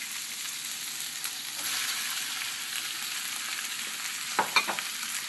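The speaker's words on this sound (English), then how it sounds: "what I'm going to do is throw in my chopped tomatoes" Chopped tomatoes sautéing in a pan for a spicy eggplant and tofu dish, giving a steady close sizzle with a few brief scrapes and clatters near the end, no talk.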